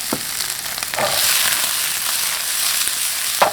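Steady hissing sizzle of shrimp frying in hot oil in a home kitchen, with a few soft clinks of a utensil stirring in the pan, no voices.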